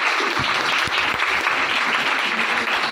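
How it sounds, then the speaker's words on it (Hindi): A church congregation at a pastor's sermon breaks into loud, steady applause, a dense wash of many hands clapping close by with a few sharper individual claps standing out. "तो उसके लिए जोरदार तालियां"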